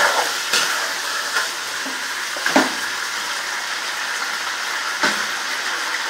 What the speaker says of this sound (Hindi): फ्राई करने के बाद जब गोल्डन कलर का हो जाए आपका चिकन